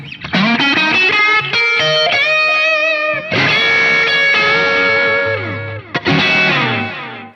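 Loud distorted electric guitar playing a sustained lead line through a Line 6 POD Go Fender Bassman amp model cranked to 10, with held, bending notes, saturated and continuous with brief pauses, no voices.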